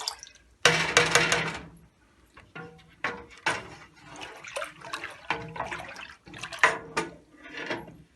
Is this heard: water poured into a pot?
yes